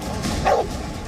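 A dog barks during a street dog attack on a four-year-old girl: one short, sharp bark stands out clearly against a steady background hum.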